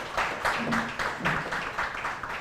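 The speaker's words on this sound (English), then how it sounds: "can we give him a round of applause?" Audience applause at a financial stability symposium, a moderate crowd clapping in irregular bursts that swell and fade, heard fairly close and on its own, without speech.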